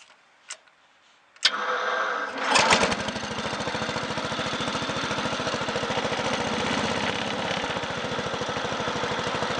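A few clicks, then an old Bolens garden tractor engine cranks and catches, settling into a loud, steady chugging idle that continues to the end.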